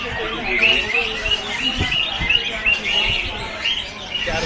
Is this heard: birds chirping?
yes